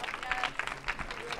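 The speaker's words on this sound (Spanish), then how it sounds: "Un aplauso para Cintia, por favor" A short burst of applause from a small group, steady clapping with some crowd murmur mixed in.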